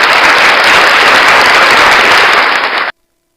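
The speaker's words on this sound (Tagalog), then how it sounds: "Palakpakan natin yung mga nandiyan." Loud, dense applause, steady and continuous for about three seconds before cutting off abruptly into silence.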